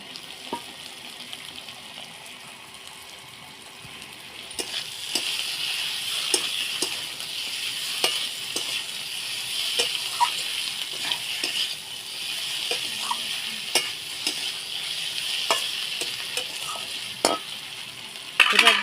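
Fried bitter gourd and bhola fish in a pan, with a steady bright sizzle that swells after a few seconds, broken by repeated sharp clinks and scrapes of a utensil, close and without talk.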